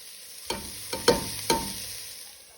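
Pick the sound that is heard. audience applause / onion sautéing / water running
onion sautéing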